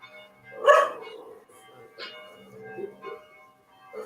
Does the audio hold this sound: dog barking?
yes